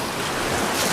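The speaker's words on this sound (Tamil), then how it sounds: "இந்த அலையை அடிக்கிறது வந்து பாரு வா." Sea waves surge and break continuously on a shoreline as rain approaches, a broad steady roar of surf and wind with no pause, loud and close throughout.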